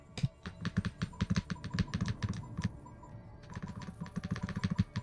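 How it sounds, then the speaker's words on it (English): Close, loud computer keyboard typing clatters in rapid irregular bursts, pausing briefly before another flurry of keystrokes, with no voice. "I'm so sorry if that keyboard was loud."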